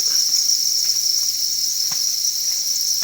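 Farmed crickets kept for sale chirp in a loud, dense, unbroken high trill, a mass of insects calling together with faint scattered knocks beneath.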